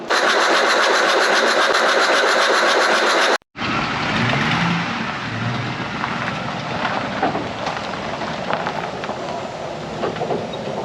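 An old, abandoned Ford tractor engine cranks with a steady loud mechanical drone, cuts out for a moment, then catches and runs roughly with clattering, uneven knocks close by.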